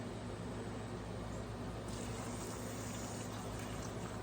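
Pickling liquid poured from a container into jars of jalapeños, a steady rushing splash of liquid heard up close with no talk.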